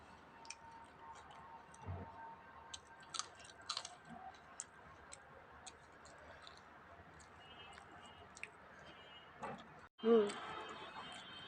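Soft chewing while eating fish with potato mash, faint clicks and moist mouth sounds close up, scattered over quiet room noise with a brief louder rustle near the end.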